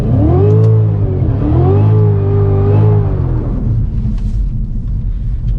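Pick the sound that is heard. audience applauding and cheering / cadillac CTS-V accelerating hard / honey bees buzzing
cadillac CTS-V accelerating hard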